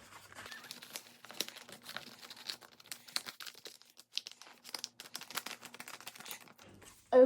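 Paper is creased and folded by hand into an origami envelope, with close, crisp crinkles and rustles coming in irregular bursts, followed by a short thump at the end.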